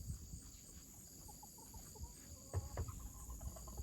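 A broody hen in a coop with extra eggs under her makes low, scattered clucks and grumbles over a constant high insect-like drone, growing busier and louder toward the end.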